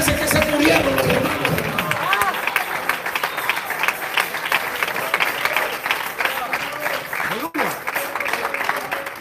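Churchgoers clap at an evangelical service, a loud flurry of claps near the start that thins into scattered, sparse clapping mixed with crowd murmur and voices from the congregation.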